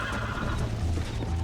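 A horse in Red Dead Redemption whinnies loudly at close range in one short burst, with hooves clopping faintly beneath it and no voices.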